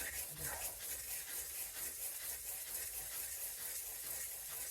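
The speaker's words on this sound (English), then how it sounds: "I'm sharpening this figure 8 style on this same piece of 400" Plane blade bevel being honed figure-8 style on 400 grit abrasive: a steady, soft rasping rub that continues without a break, close and fairly quiet, with no talking.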